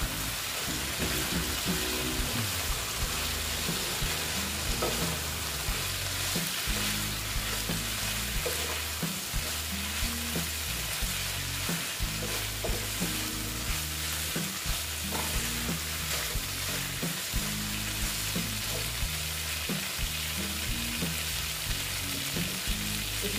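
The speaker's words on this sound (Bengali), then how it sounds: "এটার সঙ্গে আমি ভালো মতন কষিয়ে নিচ্ছি" Soybeans and egg masala sizzle steadily in a pan while a spatula scrapes and stirs in a regular rhythm, close and continuous for the whole stretch with no talking.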